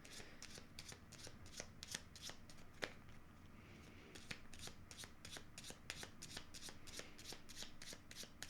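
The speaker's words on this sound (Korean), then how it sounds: "셔플하고 카드 바로 뽑아보도록 할게요." Lenormand tarot cards being shuffled by hand, a close run of crisp riffling snaps repeating in a quick, fairly even rhythm throughout, with no voice.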